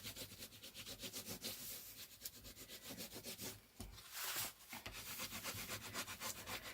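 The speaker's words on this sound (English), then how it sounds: "Now I've got my bone folder because I'm going to burnish it down really nicely all the way along to make sure it sticks." Bone folder burnishing homemade fabric washi tape along a strip, a close, steady rubbing with a brisk back-and-forth rhythm that runs continuously and dips briefly once before resuming.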